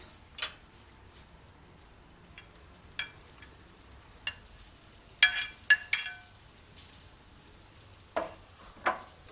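Eggs frying in a little oil tinted with food colouring, a quiet sizzle under scattered sharp taps and scrapes of a spatula against the pan, a few clustered clicks in the middle; no talking.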